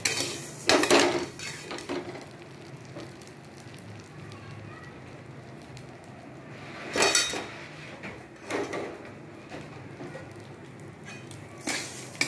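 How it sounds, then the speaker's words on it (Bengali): A spoon clatters and scrapes against a pot as lentils are stirred while frying, loud bursts of metallic knocking over a quiet background sizzle. "ভালো করে নাড়বো যাতে ডালটা ভালো করে ভাজা হয়ে যায়।"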